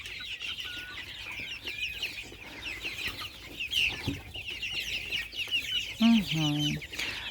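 Young Faverolles chickens cluck and peep repeatedly at close range, with a louder cluck burst near the end and steady coop noise underneath.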